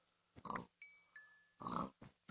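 A Minecraft pig in a video game gives short grunts in quick bursts, with electronic game tones between them, fairly quiet and with no talking.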